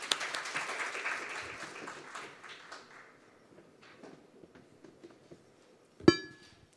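Audience applause at a financial crime prevention seminar greets a speaker, starting fairly full and thinning into sparse claps over a few seconds, followed by a sharp knock or thud near the end.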